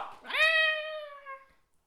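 A cat lets out a single loud, drawn-out meow that rises and then slowly falls away, close by with no talking over it.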